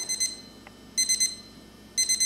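A wireless probe thermometer checking pork being cooked for pulled pork sounds its alert in three short bursts of rapid high beeps, about one second apart, crisp and close in an otherwise quiet setting.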